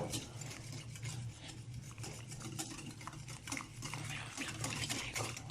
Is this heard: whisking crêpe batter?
yes